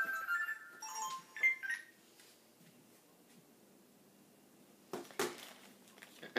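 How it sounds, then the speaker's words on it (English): A mobile phone ringing during a home sewing class: short melodic ringtone notes for about two seconds, followed by quieter rustling and a couple of clattering knocks near the end. "there goes my phone again"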